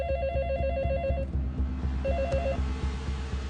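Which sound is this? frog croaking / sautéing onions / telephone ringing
telephone ringing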